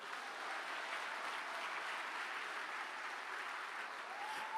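A church congregation claps together in a sustained, even wash of applause, fairly faint and steady throughout, with no voices on top.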